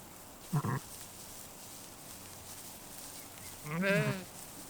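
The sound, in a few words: sheep bleating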